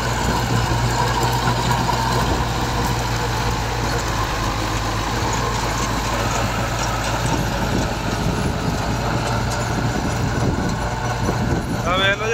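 A Massey Ferguson 385 tractor labors under load pulling a rotavator, its engine droning loudly and continuously with a low steady rumble throughout, close and unbroken.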